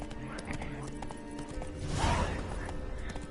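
Hooves of the horse Roach clop rhythmically in the Witcher 3 video game, a steady galloping patter under a muffled game soundscape that briefly swells near the end.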